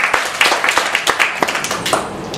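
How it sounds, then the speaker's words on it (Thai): An audience applauds every team at a game show, many hands clapping in a brisk, fairly loud burst with distinct sharp claps standing out, steady for a couple of seconds. "ปรบมือให้ทุกทีมครับผม"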